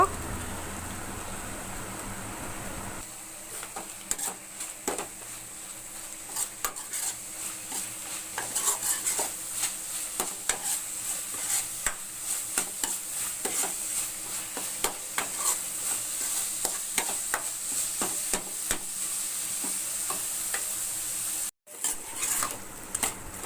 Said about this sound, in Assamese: গোটেইখিনি মছলাখিনি তেলত ধুনীয়াকৈ ভাজি ল'ব লাগিব